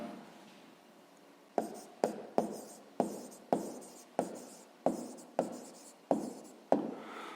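A pen writes a maths answer on paper, near and quiet, in about ten short strokes that come in a loose, even rhythm after a brief still stretch.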